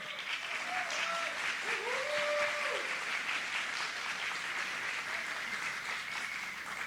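Steady applause from a large audience fills the whole stretch at a moderate, slightly distant level, with a few faint voices underneath.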